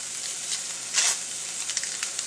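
Butter sizzling in a pan with browned onions for breakfast tacos, a steady close frying hiss with a brief louder crackle partway through.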